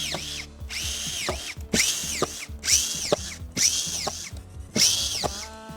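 A Worx cordless collated belt screw gun driving screws: five or six rapid, rhythmic bursts of whining motor pitch rising and falling, each ending in a clack as the belt advances, close and loud.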